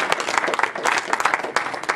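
A church congregation claps hands during a service, with many claps close together in a lively, uneven rhythm and some voices underneath.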